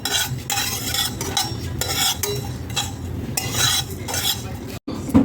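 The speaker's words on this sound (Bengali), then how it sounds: "শুকনো খোলায় আমি আগে মশলাটা ভেজে নেব" Whole fennel, coriander, nigella and fenugreek seeds are dry-roasted in a hot pan, with repeated bursts of scraping and stirring over a faint sizzle, loud and close, in an uneven rhythm.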